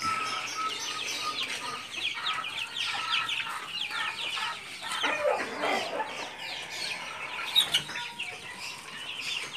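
A flock of chickens in stacked colony breeder cages on a farm clucks and squawks continuously, many birds calling at once at close range, with a few louder sharp cries standing out near the end.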